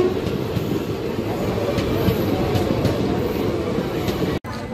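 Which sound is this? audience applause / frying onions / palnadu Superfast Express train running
palnadu Superfast Express train running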